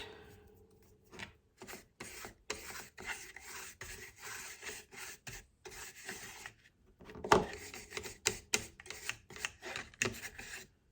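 Clear wax rubbed by hand over a molded decorative photo frame, a close, dry rasping scuff in repeated short strokes with brief pauses, a sharper scrape near the middle.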